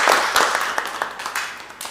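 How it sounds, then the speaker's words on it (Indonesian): Brief classroom applause for a student group, many hands clapping together in a loud, steady patter that gradually thins out. "Boleh tepuk tangan untuk kelompok"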